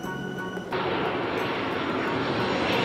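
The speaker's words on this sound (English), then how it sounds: "See, this is aeroplane. A for aeroplane." A toy aeroplane makes a buzzing tonal whine that abruptly becomes a steady, loud jet-like roar lasting a few seconds, with no voices over it.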